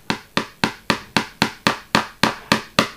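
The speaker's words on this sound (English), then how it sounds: "If you're good, you can use the hammer." A small hammer taps model railway track on a Hornby TT scale layout being ballasted: ten sharp, evenly spaced knocks over about three seconds, close and crisp, with no talking.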